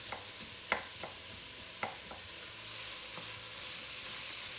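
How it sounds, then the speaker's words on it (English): Onions frying in olive oil for French onion soup give a steady, faint sizzle, broken by a few sharp clicks and pops from stirring or spatters. "Listen to the sizzle."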